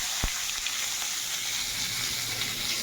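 Bay leaf dropped into hot oil for chicken curry sizzles and fries steadily at close range, a brief sharp crackle at the start, then a continuous hiss with faint stirring, no voices.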